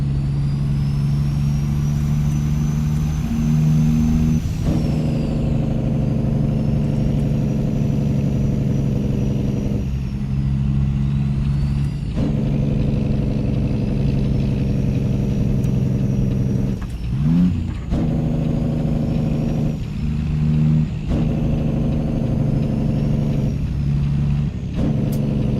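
Cat C15 truck engine in a truck driving simulator hums loudly and steadily for the whole stretch, with repeated gear shifts and dips in pitch, occasional air-brake hisses and revving, and no talking over it.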